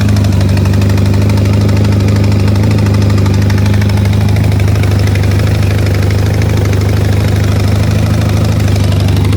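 Restored 1972 Yamaha XS2 650 motorcycle idling up close, a loud, steady low-pitched engine rumble with an even rhythmic beat throughout and no talking.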